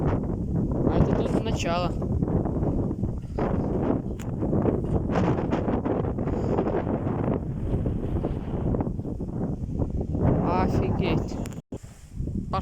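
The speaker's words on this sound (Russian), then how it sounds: "Солнце вылезло и ветер поднялся. Даже небольшой свист." Strong gusty wind storm sweeps across an open field, fence shaking, roaring continuously against the microphone with surging gusts and a faint whistle, while someone talks over it.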